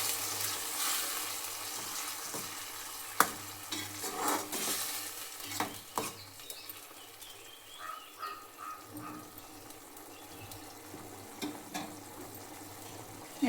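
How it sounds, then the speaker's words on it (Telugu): Tomato paste stirred into a curry of field bean seeds in a pan, with irregular scraping strokes, soft sizzling and occasional clacks of the spoon against the pan, close by and with no talking. "ఇలా టమాటా పేస్ట్ని యాడ్ చేసిన తర్వాత ఇలా కలుపుకోవాలి"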